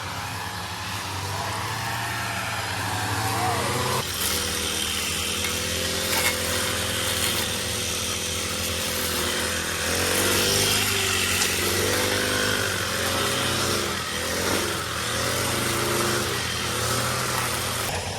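Seven or eight motorized grass cutters drone together in a village field, a continuous buzzing engine chorus that rises and falls as the strimmers rev, with no talk over it.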